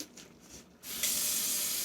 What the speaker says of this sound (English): And let's put a little hot water in there.